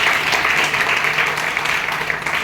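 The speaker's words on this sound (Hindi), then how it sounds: "8 बार जोरदार ताली मारी भाई" An audience at a business gathering claps loudly and continuously, a thick, even roar of many hands that fills the whole short stretch.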